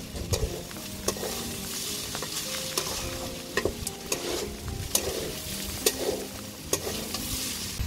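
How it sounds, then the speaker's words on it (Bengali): Broken rice being stir-fried in a pan for a Bangladeshi khuder bhaat, giving a steady close sizzle with repeated scraping and stirring clicks of a utensil against the pan, with no talking. "খুদটাকে খুব ভালোভাবে কষিয়ে নিব।"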